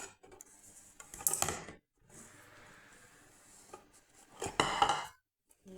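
Flour and baking powder are sifted for fluffy pancakes, giving two short bursts of metallic scraping and rattling from a sieve, separated by quieter shuffling.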